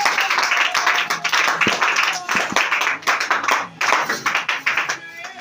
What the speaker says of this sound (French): Que tes acclamations accompagnent cette prophétie